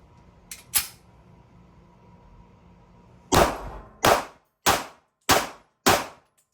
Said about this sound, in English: shoot a little faster this time